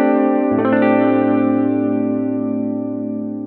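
A clean electric guitar chord rings out through a Tech 21 Blonde amp pedal, strummed once and left to sustain and slowly fade, with a slight shimmer and depth.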